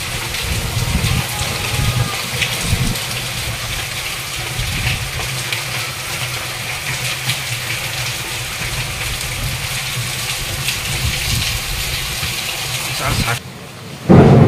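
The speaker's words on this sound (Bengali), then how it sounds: "আর খুব মেঘ ডাকছে আজকে, খুব মেঘ ডাকছে অত্যাধিক।" Steady heavy rain pours outside a house during a thunderstorm, a dense continuous wash with low rumbling underneath, near and fairly loud, cutting off abruptly near the end.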